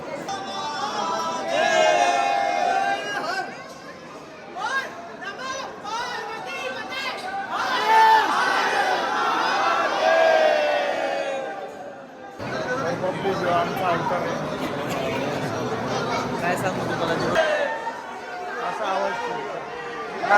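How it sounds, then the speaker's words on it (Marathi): A large crowd of pilgrims at the Mahakal temple in Ujjain fills the air with dense chatter and overlapping voices, people talking nearby throughout, with a sudden louder surge of babble midway. "आमच्या मागून गर्दी आली लय गर्दी वाढली"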